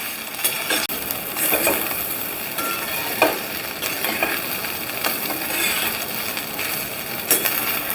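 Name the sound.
stirring and mixing dudhi muthiya with curry leaves in a pan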